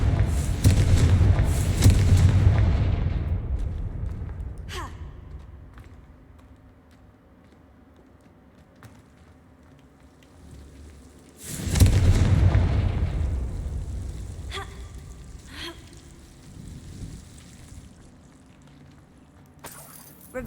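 Confringo blasting-spell explosions in the Hogwarts Legacy video game: two loud, heavy booming blasts, each followed by a long rumbling decay, about eleven seconds apart, with faint sparkling effects in between.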